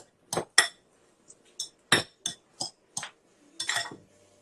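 Salmon with parsley and herbs tossed in a pan: a series of crisp metallic clinks and scrapes of a utensil against the pan, spaced irregularly and up close, with no voices.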